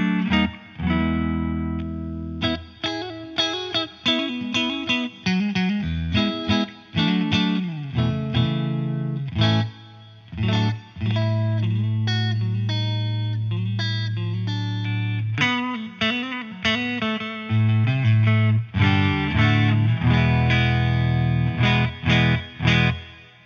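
An electric guitar plays through a Fender Bassman 10 amplifier. It is a sustained, loud, continuous passage of strummed chords and single notes with a full bass register and some reverb, with no talking.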